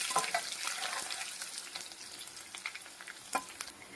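Tempering spices and unpeeled crushed garlic fry and sizzle in hot oil for a Gongura pickle, a steady close crackle with scattered sharper pops and stirring scrapes, no talk.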